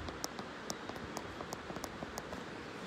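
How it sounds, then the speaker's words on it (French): A flowing river gives a soft, steady rush of water with faint scattered trickles and drips, distant and quiet, with no voices. "je vous invite à vous installer confortablement et à écouter le son de cette magnifique rivière"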